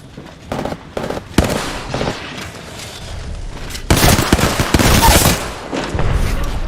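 Gunfire in the video game Apex Legends: a few sharp early shots lead into a dense, loud stretch of rapid automatic fire, then more scattered bursts, with brief voice callouts in between.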